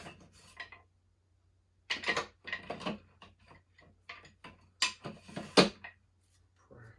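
An adjustable dumbbell's weight dial is cranked round, giving close bursts of clicking, clacking and scraping metal and plastic parts in irregular clusters separated by short quiet gaps.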